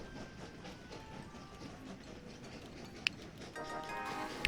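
A train rolls along in the railway puzzle game Train Valley, a soft rhythmic clickety-clack under a faint hum, with a sharp tick near the end as the sound swells slightly.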